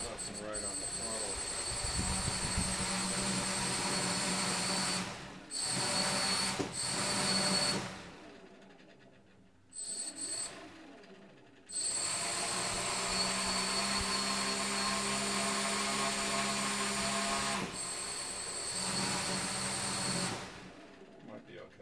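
Custom-built quadcopter under $200 strapped down for a tie-down test, its motors and propellers whining and buzzing loudly in long runs that cut out briefly and restart as the throttle is worked.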